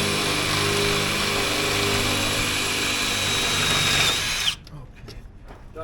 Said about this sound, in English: it makes sense while everything's down here that we pre-drill